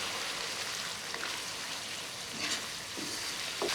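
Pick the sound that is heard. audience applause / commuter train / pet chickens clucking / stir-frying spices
stir-frying spices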